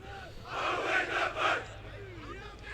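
A crowd at a school 1st XI sports match between SACS and Wynberg roars and cheers in a few loud surges, then fades back to background murmur.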